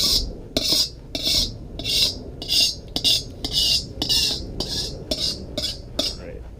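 A metal spatula scrapes and clanks rhythmically against a wok on a Blackstone griddle as sausage goes in for fried rice, roughly a dozen sharp strokes loud and close, with no talking.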